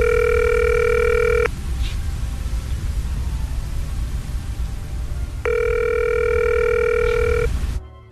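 A telephone rings for an incoming call on a radio show, two loud ring bursts separated by a pause over steady background hiss.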